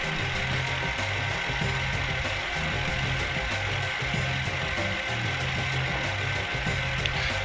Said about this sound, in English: Your CNC machine is running.